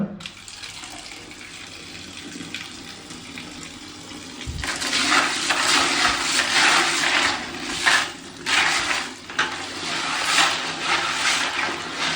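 Aquarium stones washed under running water in a small restroom, a steady rush of tap water with louder splashing and rattling bursts in the second half, close and without talk.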